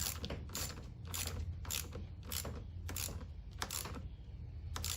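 A hand ratchet tightens a nut on a Powerhorse 2300i inverter generator, giving a close series of about eight quick, evenly spaced clicking bursts in a steady rhythm, with no talk.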